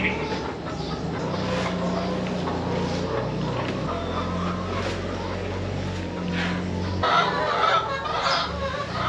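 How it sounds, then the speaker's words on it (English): Farm chickens cluck and chatter continuously while being fed on a family farm, close and fairly loud over a steady low mechanical hum. "now getting the chickens all fed"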